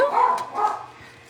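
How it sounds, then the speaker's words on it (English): A dog barks a couple of times indoors, short sharp yaps at moderate loudness in a home where people are about, with no other sound competing. "Sorry about the dog barking."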